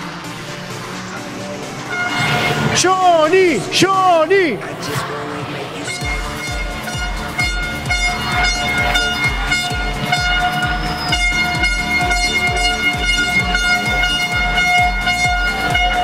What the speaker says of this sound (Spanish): Me está dejando sordo la bocina